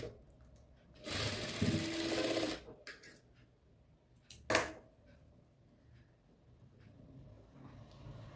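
A sewing machine stitches a frilled pillow cover in short bursts: a loud run of about a second and a half, then a couple of brief stitches, with quiet pauses between.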